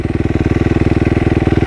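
A warmed-up off-road motorcycle engine, a cross or enduro bike, runs at steady idle, a loud, close, rapid even putter with regular pulses and no speech.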